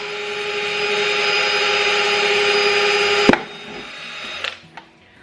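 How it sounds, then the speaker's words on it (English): An electric drill whirs steadily for about three seconds, drilling holes in the bottom of a plastic jug, then stops with a sharp knock, followed by a few clunks and quiet. "you're just gonna drill holes in the bottom of the jug"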